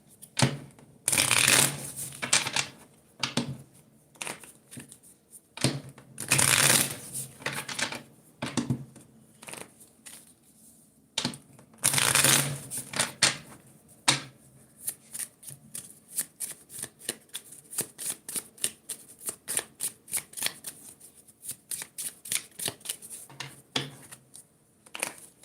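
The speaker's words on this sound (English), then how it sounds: "let's take a couple of cards before I head out" A deck of playing cards being shuffled in repeated riffling bursts, close and crisp, with a few quiet gaps between shuffles and faint background noise.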